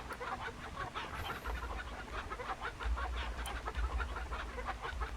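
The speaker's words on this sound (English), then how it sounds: "I need to get the brown chicken inside the pen." A brown chicken clucking in a farm-pen mini game, steady soft clucks and chatter over a constant low background hum, fairly faint throughout.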